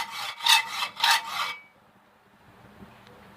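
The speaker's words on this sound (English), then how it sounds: "I'm cutting everything with a hacksaw." A hacksaw cutting metal car suspension parts makes three quick rasping strokes in a steady back-and-forth rhythm, then stops, leaving quiet room noise.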